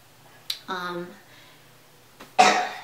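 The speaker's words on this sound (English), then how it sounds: "Sorry if you hear coughing in the background" A child's short sharp cough, a brief voiced sound, then a harsher cough burst, heard close and separated by quiet.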